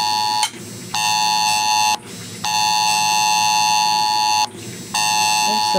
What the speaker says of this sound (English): This is a test of the National Wireless Emergency Alert System.